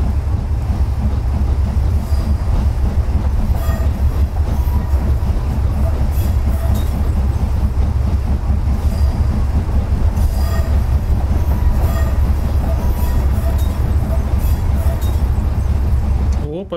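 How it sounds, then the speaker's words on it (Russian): A retro steam locomotive in the Train Simulator 2022 game, on the Settle–Carlisle line, rolls along with a loud, continuous rumble and a rhythmic clatter of wheels that stays steady throughout. "Ретро поезд какой-то."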